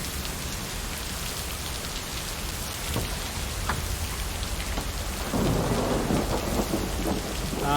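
A thunderstorm over a lake brings steady rain hissing on surfaces, with a few distant rolls of thunder and heavier close pattering of drops toward the end.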